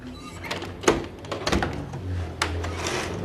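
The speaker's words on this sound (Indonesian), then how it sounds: "Aku buka pintu bentar." A door is opened indoors during an Indonesian drama scene, giving a few soft knocks and thuds followed by a sliding, scraping rustle, moderately close with no talking.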